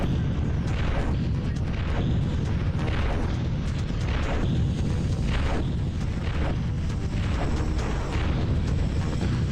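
Repeated booming blasts from the PlayStation game Army Men: Green Rogue, a grenade-style explosion among a series of heavy rhythmic bursts and rumbles, loud and dense throughout with no speech.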